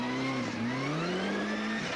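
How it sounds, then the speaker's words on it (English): A rally car on a slippery snowy stage, struggling to hook up its power, drones close by with a steady engine note that dips and climbs as the throttle is feathered, with faint tyre slip underneath. "You can see he's feathering the throttle all the time"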